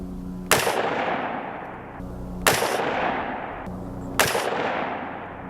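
A budget SPR-style rifle fires three evenly spaced shots at a melon target outdoors, each a sharp, loud crack followed by a long rolling echo that fades before the next shot.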